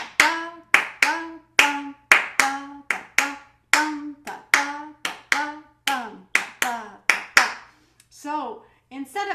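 Hands clap out a steady, evenly spaced rhythm of sharp, close claps, each followed by a brief ringing tone, with a few quicker irregular claps near the end.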